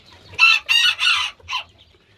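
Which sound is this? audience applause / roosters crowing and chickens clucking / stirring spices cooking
roosters crowing and chickens clucking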